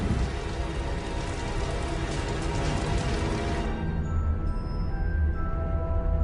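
Steady rain pours down loud and close, a dense continuous hiss and patter standing in for methane rain falling on Titan, lightening slightly toward the end.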